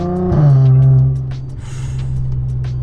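An Audi S4 with a loud valved exhaust pulls away in city driving, a deep throaty drone that swells then eases into a steady low burble, close and prominent.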